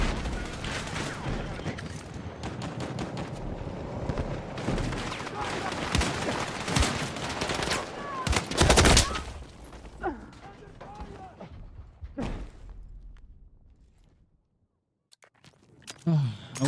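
Repeated gunfire from an SVK DMR rifle in a video game, single shots at an uneven pace with dense battle noise, fading to near silence before a final late burst; speech occurs in the mix.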